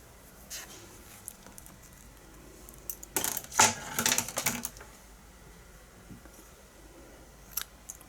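Scissors snipping yarn after knitting baby sweater sleeves, a short cluster of crisp close clicks and snips in the middle of an otherwise quiet moment.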